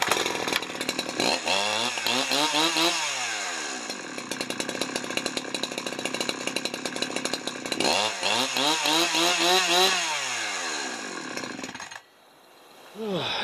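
Chainsaw with a rebuilt carburetor fitted with China-made parts, started with a couple of rising revs, then running at a rough, buzzing idle before cutting out near the end; close and loud.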